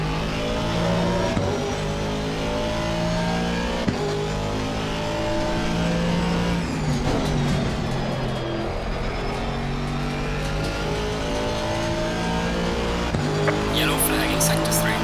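An Aston Martin V8 GT race car engine roars through laps of Brands Hatch in Assetto Corsa Competizione, continuous loud revving and gear changes with tire squeal, while someone talks over it.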